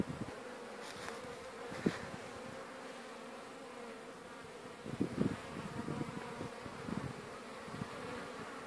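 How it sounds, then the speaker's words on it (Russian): Honeybees stream out of their hives on the first warm spring day of March, making their first cleansing flight. Their buzzing forms a soft, steady, distant drone, with a few louder passes of single bees close by. "Ули прогрелись немножко на солнце, и пчела потихоньку пошла на облет."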